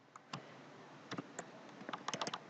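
Typing on a computer keyboard, with scattered crisp key clicks that pick up into a quicker run of taps near the end, close and quiet in a hushed room.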